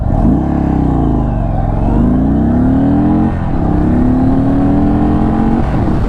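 A 2022 Indian Chief Darkhorse motorcycle engine revs and accelerates hard, pitch climbing through gear changes with brief dips, close and continuous with no talking.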